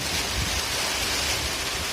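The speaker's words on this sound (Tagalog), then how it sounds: "lumakas lalo yung ulan" Dense, steady hiss of heavy rain pours continuously, a broad wash of noise with no other sounds.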